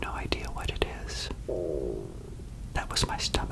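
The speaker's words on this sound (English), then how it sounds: "That was my stomach." Human stomach rumbling close to a microphone in a quiet room, a low gurgling growl lasting about a second amid soft whispering and mouth sounds.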